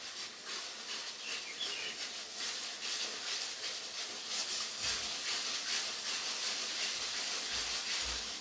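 Green chili paste and tomatoes sizzle in a hot pan, a steady, close hiss of frying that runs throughout with a few soft low clunks near the end and no voices.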